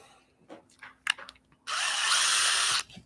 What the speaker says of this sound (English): So I take my drill bit,